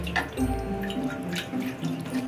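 Hot water runs steadily from a tap as crayons are washed under it, a continuous splashing hiss with a constant background hum.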